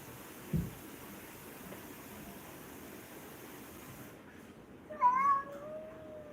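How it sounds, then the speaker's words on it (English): A crying cat meows in one drawn-out, wavering call near the end, after a single dull thump early on and a stretch of quiet background hiss. "this cat crying"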